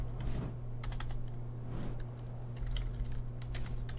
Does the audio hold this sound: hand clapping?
no